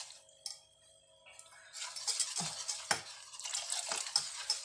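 A spoon stirs cocoa sauce and milk in a pot, giving soft wet scraping and sloshing strokes that grow busier after a quiet start, close up with no talking.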